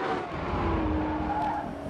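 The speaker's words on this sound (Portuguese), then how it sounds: "O ronco do motor remete a um carro de Fórmula 1 voando baixo na pista." A supercar engine roaring with a sustained high-pitched wail much like a Formula 1 car, loud and steady throughout.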